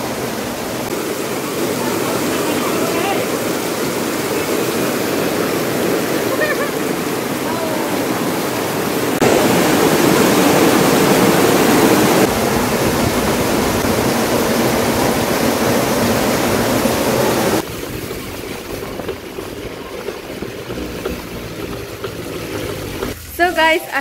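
Heavy rain pours outside in a loud, steady roaring hiss that fills the whole stretch, shifting in level partway through, with a voice faintly present beneath the downpour.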